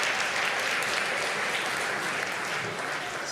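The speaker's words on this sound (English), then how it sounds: "Can we have a round of applause for our brave grown-up?" Audience applause for a grown-up volunteer at a Christmas science lecture for children: a dense, steady wash of many hands clapping that fills the whole stretch at an even level.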